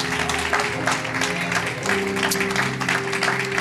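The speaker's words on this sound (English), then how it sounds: "clap those hands if you're excited to be in the house of the Lord on today" A church congregation claps hands in a steady burst of applause, loud and full in the room, over sustained organ-like musical tones.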